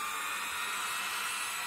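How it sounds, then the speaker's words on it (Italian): A 230 V vacuum cleaner motor running on 12 V DC from a bench supply, giving a steady, thin high whine with an airy hiss, held at an even moderate level throughout with no talk. "a 12 volts stiamo alimentando un motore che ha una tensione nominale di 230 volts"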